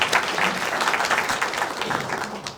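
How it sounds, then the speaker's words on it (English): Sustained audience applause fills the room at a lecture on East Tennessee women in the Civil War, a dense, steady patter of many hands clapping at close range with no talk over it. "So let's give her a warm round of applause and thanks for all that she has done."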